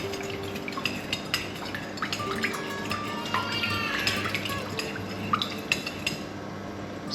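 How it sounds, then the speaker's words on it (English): Flour, water, sugar and salt being mixed with a spoon in a bowl for chicken recipe dough, with repeated close scraping and clinking of the spoon against the bowl and soft wet stirring, no talk. "Then mix with spoon."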